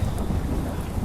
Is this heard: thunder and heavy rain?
yes